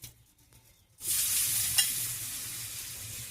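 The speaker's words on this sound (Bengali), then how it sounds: "ফোড়নের উপরে পেঁয়াজটা দিয়ে হালকা করে ভেজে নিয়েছি" Chopped onion drops onto hot oil already tempered with whole cumin, dried red chillies and whole garam masala, and a steady loud sizzle begins at once and holds with a faint stir.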